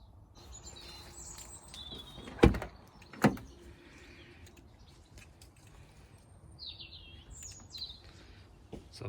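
A Ford Mondeo car door is shut twice in quick succession, two sharp thuds standing out over quiet outdoor ambience with faint birds chirping in the background.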